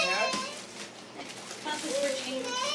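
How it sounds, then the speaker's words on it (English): A battery-operated talking toy cat gives off short electronic meows and chirpy vocal sounds at a family Christmas gathering, heard fairly faintly amid children's voices and background chatter. "Oh, it's the talking cat."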